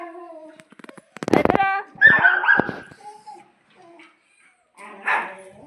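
A dog barks and yelps a few times close by, mixed with short bursts of people talking nearby.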